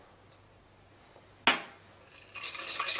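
A spoon clinks once against a bowl, then scrapes and stirs as yeast, sugar and salt are mixed for pizza dough, building into a busy, close whisking swish at the end.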